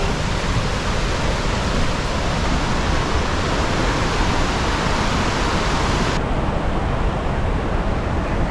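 Bopath Falls waterfall roars as a steady, dense broadband rush of falling water, loud and close, continuous throughout with no voices over it.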